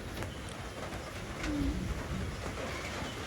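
Low, murmuring coos from a pair of abluk pigeons rise briefly out of a steady background rumble, quiet and somewhat distant.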